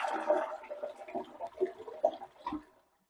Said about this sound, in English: So once you turn the water off, start flushing so we can get that out of there